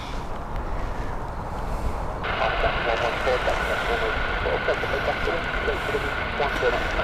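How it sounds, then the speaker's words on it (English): A NetJets Cessna Citation XLS jet lines up on an airport runway, a steady broad engine rush with a rising high whine that strengthens partway through; people talk over it. "this one is a Cessna Citation XLS."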